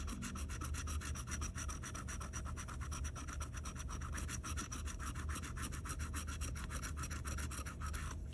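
A Florida Millionaire Maker lottery scratch-off ticket being scratched, with rapid, continuous close-up scraping strokes in a steady rhythm for the whole stretch.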